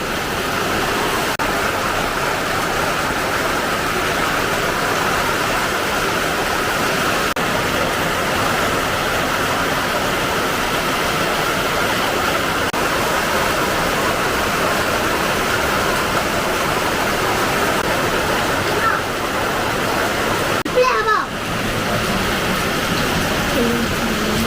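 Heavy rain pours steadily as a dense, continuous hiss that stays loud and even throughout, with a brief dip near the end.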